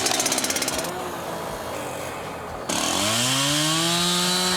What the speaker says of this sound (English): have a little mess about the chainsaw